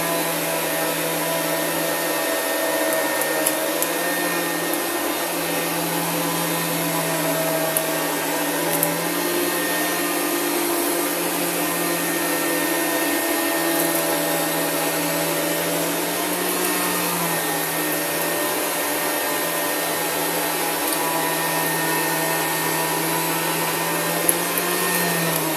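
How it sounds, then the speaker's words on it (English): A Rainbow water-filter vacuum cleaner runs continuously while picking up sand, a steady loud motor whine and airflow roar with faint gritty rattles and occasional small clicks. "But with the rainbow, I can still hear it picking up quite a bit of sand."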